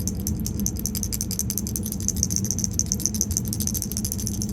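A blown 50 amp, 12 volt fuse from a 2021 Forest River Riverstone Legacy 42FSKG RV, shaken close up so loose pieces inside give a rapid, continuous tinny rattle of small clicks with no talking.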